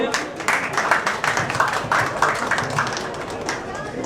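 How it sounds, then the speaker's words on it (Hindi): A crowd claps steadily at a Bhojpuri film launch event, a dense, continuous patter of many hands at moderate distance. "जोरदार ताली के लिए"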